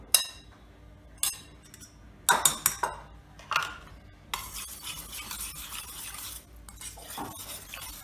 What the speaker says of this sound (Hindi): अब इसमें थोड़ा थोड़ा करके हम डालेंगे और मिक्स करेंगे।